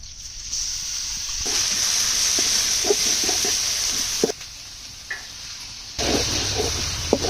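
Onion, green chili, ginger and garlic paste fry in oil, giving a steady close sizzle with short bursts of stirring and clinks. The sizzle drops out for stretches and then resumes.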